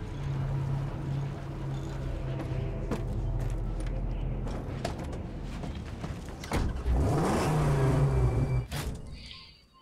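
Engine noise of a car in the video game Mad Max, a steady low mechanical drone that rises into a louder, sweeping rev near the end, with clanks and knocks along the way.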